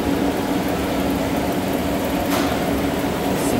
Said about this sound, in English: Brush DC gearless machine.